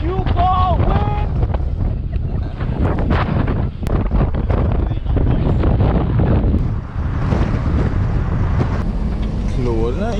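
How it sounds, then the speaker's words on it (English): Hurricane Delta wind roaring and buffeting a microphone outdoors, loud and continuous over the full stretch, with gusty surges and a rushing, water-like undertone; voices break in now and then beneath the blasts. "And this is what you call wind."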